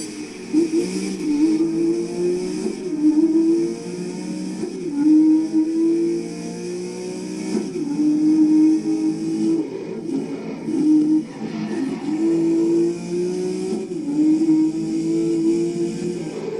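Race car engines hum and rev in repeated rising waves just before lights out for the start of a race, moderately loud and steady, with no voices over them.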